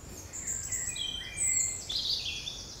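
Dawn chorus birdsong, several high chirps and trilling phrases overlapping at moderate distance, fairly faint with no voices.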